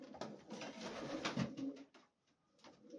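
Old Polish homing pigeons coo softly at close range, a few low murmuring calls that fade into a short quiet gap near the end.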